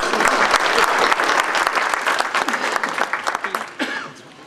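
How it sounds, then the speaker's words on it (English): An audience at a senior-citizen silent auction applauds, a dense, loud burst of clapping from a room full of people that thins into scattered claps before fading out near the end. "let's give yourselves a round of applause"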